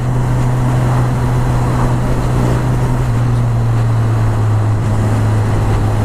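Suzuki GSX-S1000 motorcycle ridden at steady speed, a constant low engine drone under heavy rushing wind noise, loud and unbroken throughout.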